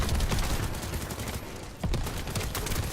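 Video-game gunfire from shooting turrets in The First Descendant on PC, a dense rattling volley of rapid shots, loud and continuous with a brief dip before resuming.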